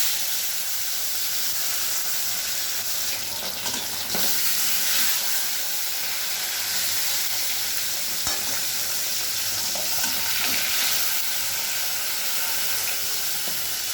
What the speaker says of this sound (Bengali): তেল গরম হয়ে গেলে মাছগুলো ছেড়ে দেবো। এই দেখুন তেলটা গরম হয়ে গেছে।